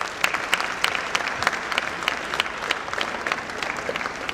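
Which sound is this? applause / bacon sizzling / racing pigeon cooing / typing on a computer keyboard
applause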